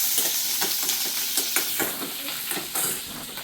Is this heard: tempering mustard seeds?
yes